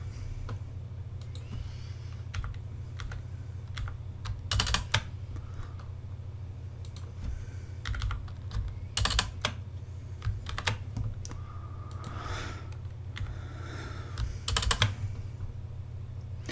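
Typing on a computer keyboard: steady soft key clicks with occasional sharper, louder strikes, close and fairly quiet over a constant low hum.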